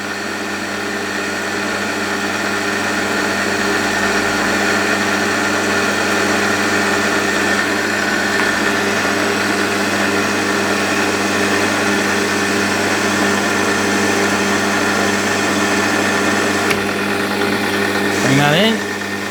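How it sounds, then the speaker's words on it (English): A Sherline 5000 milling machine cuts a cast metal pulley with a steady, close mechanical whir and hum that runs unbroken throughout. Someone talks briefly over the machine noise, and a short scrape comes near the end. "Yeah, it's machining very nicely."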